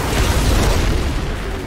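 A grenade detonates in the Outriders action shooter, a loud, dense boom that fills the whole moment and slowly tails off, with no talking.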